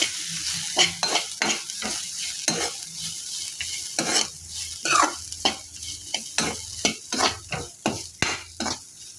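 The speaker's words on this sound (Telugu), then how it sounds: "మూత తీసుకున్నాక ఒకసారి కలుపుకోవాలి." A spoon scrapes and stirs through carrot fry in a pan with rhythmic strokes over a soft sizzle, close and fairly loud.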